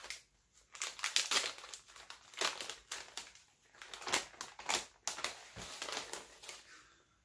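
Crinkly heat-sealed plastic bags being opened and handled, a close run of uneven crumpling and crackling bursts with short pauses, no voices.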